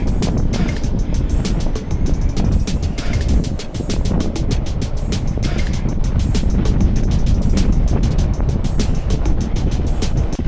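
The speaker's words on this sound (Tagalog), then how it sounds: "Grabe ang hangin." Strong wind roars and buffets the microphone continuously during a cycling ride in Taiwan, loud and rough throughout, with no speech.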